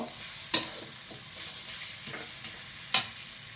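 Chilies and onions frying in a pan for beef bhuna, with a steady sizzle underneath and two sharp metallic scrapes of a spoon stirring.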